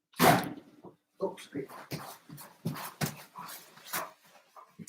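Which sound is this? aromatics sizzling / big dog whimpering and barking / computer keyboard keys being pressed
big dog whimpering and barking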